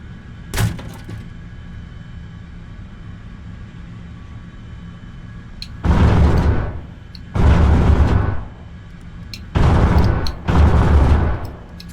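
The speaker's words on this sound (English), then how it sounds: "Oh, the AAA from the airfield was shooting at me." Anti-aircraft guns at an airfield in War Thunder fire four loud, sustained bursts of rapid gunfire in the second half, each roughly a second long, after a quieter stretch with one brief sharp crack near the start.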